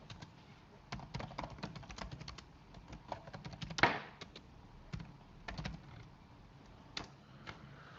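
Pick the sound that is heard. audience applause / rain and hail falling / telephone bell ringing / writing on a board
writing on a board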